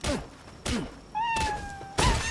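A cat-like creature in the video game Palworld meows several times in short separate cries, one drawn-out and wavering, with soft thumps between them, fairly faint and without talk.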